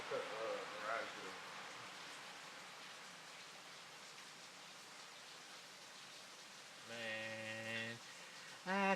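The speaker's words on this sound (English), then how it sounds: "apparently, y'all can hear it storming out there" A rainstorm hisses steadily outside a garage, a soft, even wash of noise, while people talk briefly at the start and a singing voice comes in near the end.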